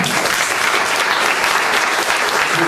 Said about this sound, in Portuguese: Vamos aplaudir o que nós acabamos de falar?